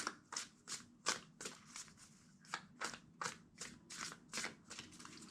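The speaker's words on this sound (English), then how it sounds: "Two more shuffles." Tarot cards are shuffled again and again close by, a quick rhythmic run of about a dozen crisp papery riffles and flicks, quiet and alone with no talking.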